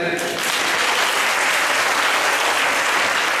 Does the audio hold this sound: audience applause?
yes